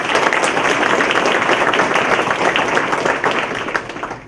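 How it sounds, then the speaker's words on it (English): An audience at a Constitution Day civil rights talk gives attorneys a generous round of applause, a dense, loud, sustained burst of many hands clapping that tapers slightly near the end. "So please give them a generous round of applause."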